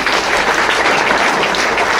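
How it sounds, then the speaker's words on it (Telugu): Loud, dense clapping from an audience of farmers at an agriculture training session, a steady continuous burst of applause filling the room. "ఒకసారి గట్టిగా క్లాప్స్ ఇద్దాం"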